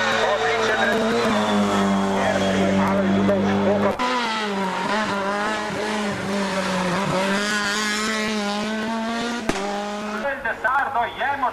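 Race car at a hill climb race in Ajdovščina, accelerating with a rising, loud engine note whose harmonics sweep up and shift through gear changes, close by, with a commentator talking over it.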